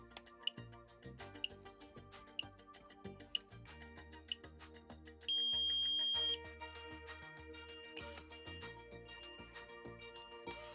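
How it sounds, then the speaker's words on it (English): Electronic timer alarm beeping indoors, a sustained steady tone lasting about a second, with a faint second beep later amid regular ticking and clicking from a hobby workbench, no voices. "Oh, is that the timer?"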